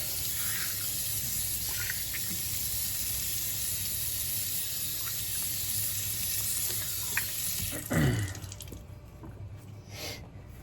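Water runs steadily from a bathroom tap at a sink during a wet shave, a constant rushing hiss, then a handle is turned with a brief clunk and the flow changes and quiets.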